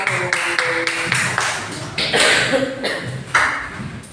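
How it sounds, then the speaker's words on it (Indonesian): Students in a classroom clap for a discussion group, giving a short burst of scattered, uneven hand claps that rise and fall for about four seconds, with a few voices mixed faintly underneath. "beri tepuk tangan dulu kelompok 1"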